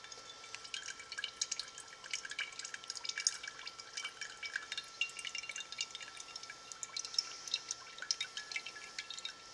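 Water drains from a JB vacuum pump's oil filter and water separator, dripping and trickling steadily in a quiet space, a faint continuous patter of small droplets with no voices.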